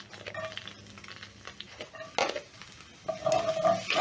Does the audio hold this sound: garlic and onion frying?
yes